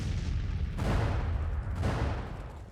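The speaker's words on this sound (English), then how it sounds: "I think it's just the cannon shooting at us at the moment." Heavy booming cannon blasts in the video game Grand Tactician: The Civil War, Battle of Fort Davidson, over a dense rumbling battle din, two big impacts spaced about a second apart, loud and continuous.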